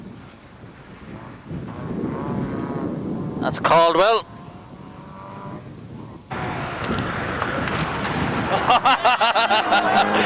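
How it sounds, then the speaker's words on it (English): A rally car engine at the 1988 Wicklow Rally swells and passes amid outdoor wind noise, a smooth steady roar building through the second half, with a commentator speaking briefly in between. "A very smooth sounding rally car, this one."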